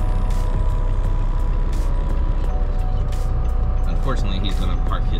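A heavy truck idles at a fuel station with a steady low engine rumble and broadband hiss, while brief air-brake hisses and faint beeps come and go over the constant noise.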